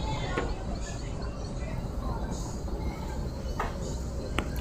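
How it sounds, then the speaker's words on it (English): A monster in a horror video game makes a train-like rumbling, dense and continuous with rattling texture, alongside a few faint high chirps and clicks. "It's really funny that he makes that train sound"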